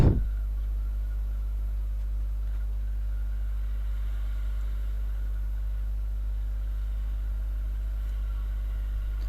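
A Viper 200 motorcycle engine running while riding, a steady low rumble that drones evenly throughout with no voices.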